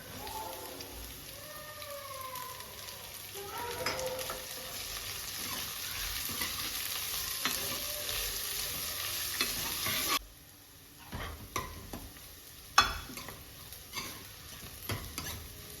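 Onion fries with ginger and garlic in a tadka for moth dal, a steady crackling sizzle for about ten seconds that then drops abruptly to a quieter hiss broken by spoon scrapes and clinks.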